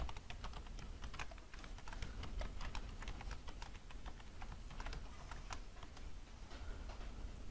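A password being typed on a computer keyboard, quiet steady clicking of keys in a continuous run with no talking.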